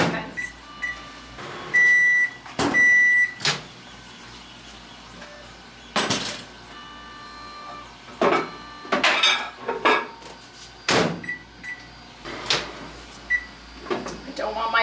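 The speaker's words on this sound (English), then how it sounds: "About a tablespoon of butter. Let me nuke this for about 5 seconds, 7 seconds." A microwave oven is melting a tablespoon of butter in a kitchen. Keypad beeps and the sharp clatter of dishes and cutlery break over a low hum.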